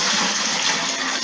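Cold water poured from a sterilised pan into a gallon batch of oak wine, a steady, loud rushing gush that holds for the whole moment with no voices.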